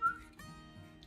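A short, high whistled tone at the start, fading quickly into a quiet background with low murmuring.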